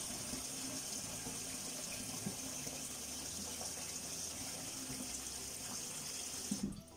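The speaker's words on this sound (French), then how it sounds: "mettre de l'eau dans la marmite" Tap water running steadily into a cooking pot in a home kitchen while making pot-au-feu, a constant gushing hiss that continues unbroken and fairly quiet throughout.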